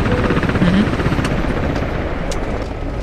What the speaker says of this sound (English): The helicopter that landed here.